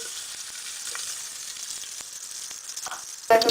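Ghee heating in a pan gives a steady, soft sizzle with faint crackles throughout, close up, ending in a brief louder clatter.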